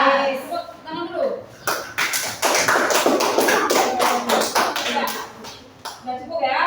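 A class claps together, a burst of dense, close applause with rapid overlapping hand claps, mixed with voices and chatter throughout.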